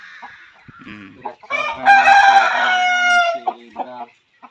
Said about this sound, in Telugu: మంచి బాడీ గల కోడిపుంజు